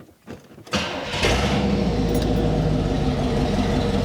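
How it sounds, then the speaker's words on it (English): A 1979 Camaro's 305 engine with no exhaust fitted cranks briefly, fires, and settles into a loud, raw, rumbling idle that stays steady and close to the end. "Now we got to see what it sounds like with absolutely no exhaust at all."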